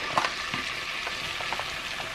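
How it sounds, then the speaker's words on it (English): Flour and melted butter sizzle in a pan while lasagne sauce is being made, giving a steady, fairly soft frying crackle with a few light scrapes and taps over it and no talking. "I'm going to put some flour in the pan"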